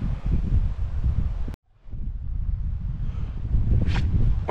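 Wind at a Baltic Sea beach where kite surfers ride, a steady low roaring buffet across the microphone that drops out for a moment and then returns just as strong.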